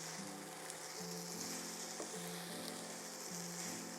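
Stir fry sizzles steadily in a hot pan, a constant bright hiss with soft periodic scraping as it is stirred, close and alone.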